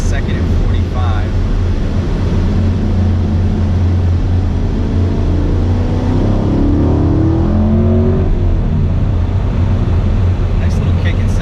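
A 2016 Camaro SS V8 engine drones loudly and steadily in the cabin, its pitch sweeping upward as it rev-matches on a downshift to second gear at about 45 mph, with someone talking over it.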